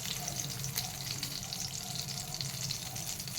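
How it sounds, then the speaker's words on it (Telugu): Dry red chillies fry in hot oil in a kadai, giving a soft, steady crackle and sizzle close by with no voices. "ఆయిల్ వేడైందండి. ఎండుమిరపకాయ వేసేసుకుందాం."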